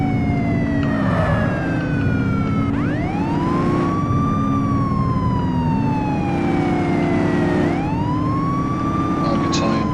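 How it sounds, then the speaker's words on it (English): Police car siren in the video game The Precinct, wailing loud and continuous with rising and falling sweeps over a low engine drone, close and steady throughout. "Left shift to toggle sirens."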